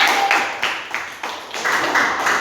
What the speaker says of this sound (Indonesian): tepuk tangan buat kelompok Mawar